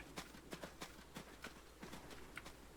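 Horse hooves clip-clopping in the video game Adios, a series of sharp, evenly spaced hoof strikes at a walking pace, close and fairly crisp over a low background hum.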